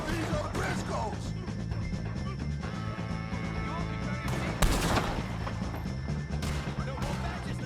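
Gunshots ring out in a Red Dead Redemption firefight against O'Driscoll gang members, a steady stream of sharp cracks with one louder blast midway, mixed with shouting voices and background game sound.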